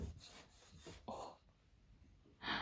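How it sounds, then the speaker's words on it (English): Quiet, repeated rough scratching strokes, short and irregular, rasping close by in an otherwise hushed room. "It's like someone is scratching."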